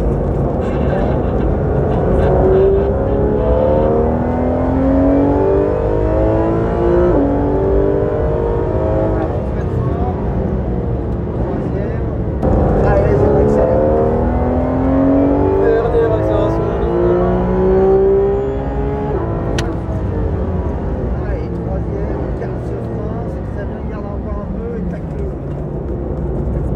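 A Porsche 911 GT3 RS laps a race circuit, its engine sound rising and falling through gears in long sweeping pulls, loud and close throughout as from inside the car.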